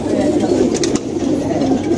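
Domestic pigeons cooing in a loft, low throaty coos repeating close by with a steady murmur underneath.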